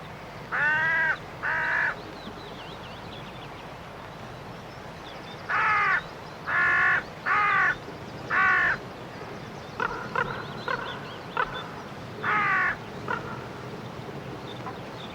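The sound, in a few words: crow cawing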